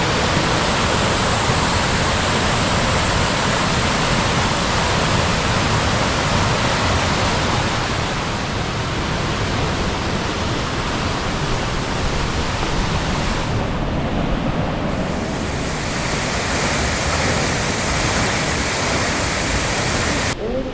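A waterfall on the Hantan River, running full after heavy rain, gives a constant, powerful rushing roar heard close and loud from start to finish, softening slightly in the latter half.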